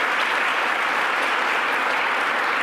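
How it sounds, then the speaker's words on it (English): An audience applauds at a governor's infrastructure announcement in Buffalo, a steady, loud wash of clapping from many hands that continues evenly throughout. "Let's give her another round of applause."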